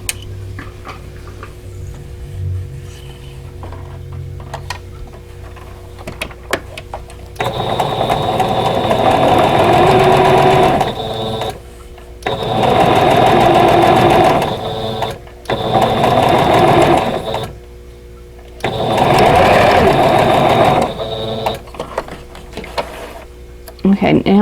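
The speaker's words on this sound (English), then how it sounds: "and then I'm going to sew that seam" A sewing machine stitches a seam on a vintage Snail's Trail quilt block in four loud, steady runs of rapid mechanical chatter, with short pauses between them, close to the microphone.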